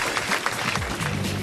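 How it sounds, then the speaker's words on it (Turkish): Applause from a quiz show studio audience, a short burst of dense clapping with some voices and low murmur underneath, steady and fairly close throughout. "Bir alkış alalım."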